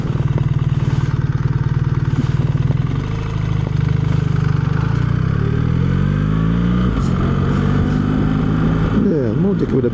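BMW R1300 GS motorcycle engine running steadily under way, its low drone shifting pitch smoothly through automatic gear changes, with a rising rev sweep near the end and a constant rumble throughout.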